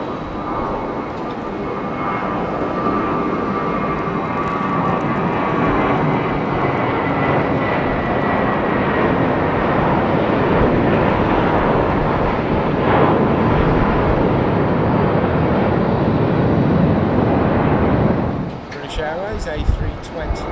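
A British Airways Airbus A320 jet takes off at Heathrow, its engines making a loud, sustained roar that stays strong and steady for about eighteen seconds before dropping away sharply near the end.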